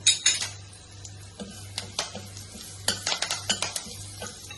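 Curry leaves drop into hot oil for a fasting-day moong usal or khichdi, giving sharp crackling sizzles and pops in quick bursts, with light clinks of a spoon or pan over a low steady hum.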